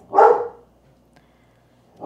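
Dog gives a single loud, close bark at the start, followed by quiet, and a second bark begins just at the end.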